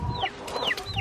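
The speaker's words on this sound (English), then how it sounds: "So I give all the chickens about 2 big containers" Farm chickens cluck and squawk close by at feeding time, with several quick rising and falling calls overlapping across a single busy second.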